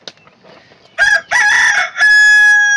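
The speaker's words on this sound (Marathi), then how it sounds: "त्या कोंबड्याने का कोकतोय" A rooster crows loudly nearby, a long strained cock-a-doodle-doo after some faint background rustling.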